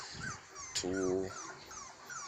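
Bully puppies at a kennel whimper and whine in a few high, wavering cries, with someone talking briefly over them.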